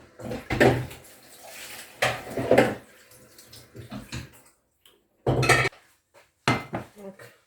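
Cooking pan and metal utensils clatter and scrape in a home kitchen, a few bright clanks and short bursts of handling noise separated by quiet pauses, close and moderately loud.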